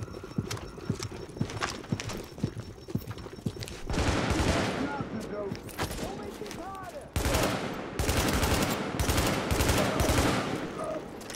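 Rapid bursts of assault rifle fire in The Division, sharp repeated volleys cutting through a dense, noisy game soundscape, with shorter bursts early and sustained louder firing later.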